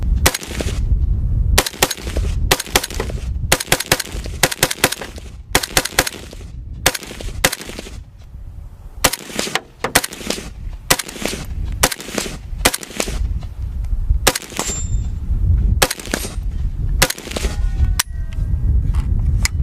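Semi-automatic AR/AK style rifle fired outdoors, a long string of sharp, loud shots spaced irregularly, some in quick pairs, each crack followed by brief echo, with no talking.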